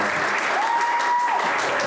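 Audience applause at a comedy show, a steady wash of clapping filling the room for the full two seconds, with a faint sustained tone rising briefly through the middle.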